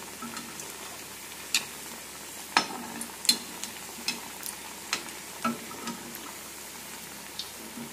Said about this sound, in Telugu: ఇప్పుడు ఫస్ట్ టైం బొబ్బర్లో వడ అయితే వేస్తున్నాను